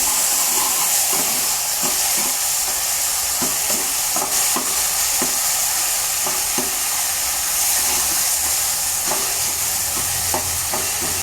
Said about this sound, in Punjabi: ਹੁਣ ਆਪਾਂ ਇਹਦੇ ਵਿੱਚ ਇਹ ਅਦਰਕ ਟਮਾਟਰ ਤੇ ਲਸਣ ਦਾ ਪੇਸਟ ਪਾ ਦੇਵਾਂਗੇ ਹੁਣ 2 ਮਿੰਟ ਆਪਾਂ ਇਹਨੂੰ ਭੁੰਨਾਂਗੇ